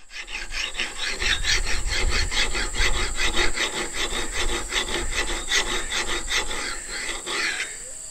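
A file rasps back and forth along the edge of an old axe being refurbished, producing steady rhythmic scraping strokes at close range for the whole stretch with no pauses.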